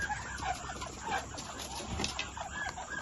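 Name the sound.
ducks calling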